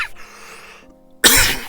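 A single sharp cough in a Final Fantasy XI cutscene bursts out after a stretch of near silence, loud and close to the microphone.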